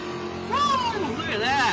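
A Nova drag car engine revs hard, rising and falling in two sweeping bursts over about two seconds, loud and close.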